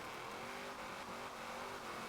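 A Shelby 1000 drifts in the rain in Forza Horizon 4, its engine droning steadily with a faint, continuous rev under a low wash of noise.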